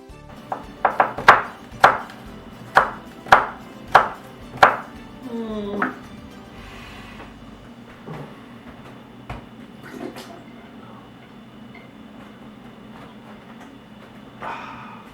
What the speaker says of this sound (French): vais couper l'oignon